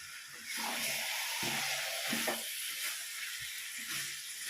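Garlic cloves sizzle steadily in a hot pan with spiced chicken, a continuous frying hiss with soft stirring scrapes and clinks beneath it, close and moderately loud.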